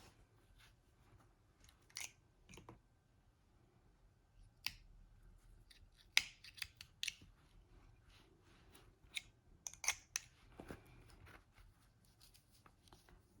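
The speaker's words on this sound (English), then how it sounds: "you're just going to cut this yarn" Scissors snip through crochet yarn while a puff stitch daisy flower is being made, giving faint, close, scattered sharp clicks and cuts spread irregularly over a quiet background.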